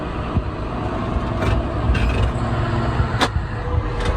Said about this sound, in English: she swings in first and then rolls over, and then the wheel drops